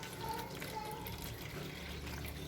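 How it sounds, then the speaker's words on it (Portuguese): Water is poured into bowl of bread dough ingredients such as flour and salt, a steady splashing, trickling wash that runs continuously and evenly throughout, with no talk over it. "Vou colocar a água."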